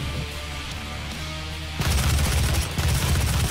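Doom gunfire, a sudden loud blast of dense shots crashing in over a quieter mechanical background, continuing in heavy close bursts with a short dip before resuming.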